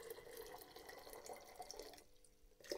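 Hot water runs steadily into jars set up for solar yarn dyeing, a continuous splashing pour that breaks off briefly near the end before a final trickle.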